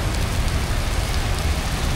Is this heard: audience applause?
no